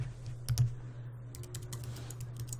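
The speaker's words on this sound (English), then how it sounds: "I keep forgetting this keyboard is wireless" Typing on a wireless computer keyboard, with quiet clustered key clicks and taps over a steady low hum, fairly soft and without speech.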